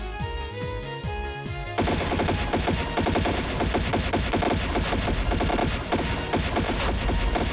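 Rapid gunfire from the video game Trails in the Sky SC, with a short burst of rhythmic shots and then dense, continuous automatic fire layered over game music, loud and unbroken for several seconds.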